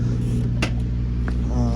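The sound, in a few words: 1971 Chevrolet Camaro driving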